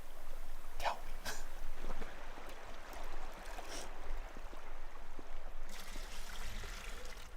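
A river stream flows steadily in a remote corner of Alaska, a constant rushing wash with a few brief splashes and knocks near the start.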